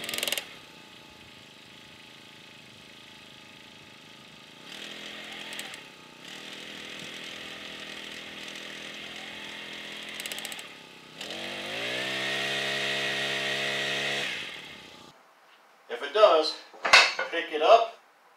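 Rhino gas-powered post driver running with its small engine, shifting pitch and revving up when dry fired, then a burst of sharp metallic hammering clatter near the end; loud and close throughout.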